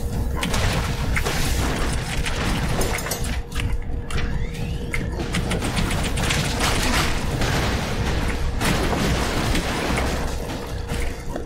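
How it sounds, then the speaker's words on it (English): Explosions in the run-and-gun video game Broforce, a dense chaotic barrage of booms, gunfire and crashing debris that keeps going without a break, loud and close throughout. "Lots of explosions."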